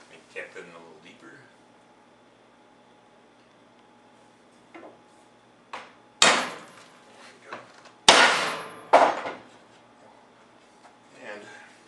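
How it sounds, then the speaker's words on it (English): Hammering a joinery cap into a 45-degree wooden miter joint in a workshop: a few sharp, loud metallic-wooden strikes in two clusters, separated by quiet pauses, with faint talk early on. "As you hammer the cap in place, it expands the joint, pulling the stock together."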